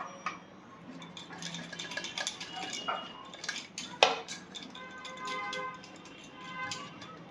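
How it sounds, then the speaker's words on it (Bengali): A plate is turned round and round to spread raw mango pulp, giving close, steady rattling and clinking of dishware with scattered sharper knocks and one louder clatter midway. "আমি একটু থালাটা ঘুরিয়ে ঘুরিয়ে পুরোটা ছড়িয়ে দিচ্ছি"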